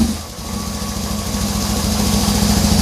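A BMW R 1150 GS motorcycle idles after repair of its wiring harness and Hall effect sensor, giving a steady, close, even low rumble that holds throughout with no talk.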